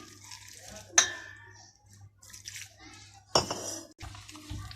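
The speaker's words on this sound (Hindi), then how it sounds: "अब इसमें पानी डालकर इसको अच्छे तरीके से मिक्स कर लें।" Spiced eggplant pakora batter being mixed with water in a bowl: a few sharp utensil clinks and scraping, wet stirring sounds in between, close and fairly quiet over a low steady hum.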